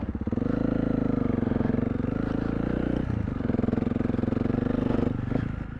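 A big bore Honda CRF300L dual sport motorcycle engine thrums close and loud while riding at low speed in first gear, a steady pulsing drone with a brief dip midway.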